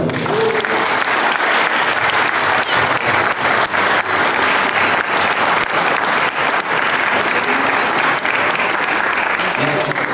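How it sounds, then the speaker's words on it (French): An audience applauds at a prize-giving ceremony for the Open de Fourmies, loud sustained clapping that stays dense and even throughout, with a few voices faintly mixed in. "il serait bien de faire gros applaudissements pour tout ce palmarès"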